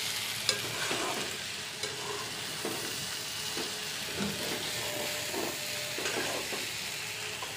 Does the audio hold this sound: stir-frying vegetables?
yes